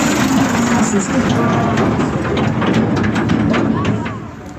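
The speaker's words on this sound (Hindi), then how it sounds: "ये एक और ट्रैक्टर आ गया।" A tractor engine rumbles steadily on a village road, a loud continuous low drone that eases off toward the end, with people talking over it.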